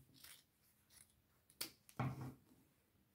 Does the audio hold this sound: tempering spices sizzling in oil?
no